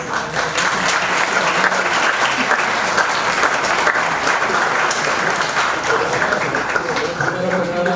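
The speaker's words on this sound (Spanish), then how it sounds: "Un aplauso." A lecture audience at a conference on ethics and bioethics greets the speaker with loud, sustained applause, a thick and steady roar of clapping that stays even for the full eight seconds.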